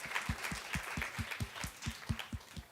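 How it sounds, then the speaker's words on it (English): An audience applauds contestants at a poetry reading event, a faint, rapid patter of many hands clapping with steady, slightly uneven rhythm. "Can we please have a round of applause for all of our contestants who were fantastic?"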